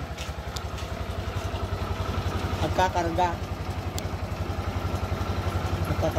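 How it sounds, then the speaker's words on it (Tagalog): Motorcycle engine idling after a battery repair, a fast, steady low putter close by running throughout, with someone talking over it. "Ayun katropa, maandar na yung motor."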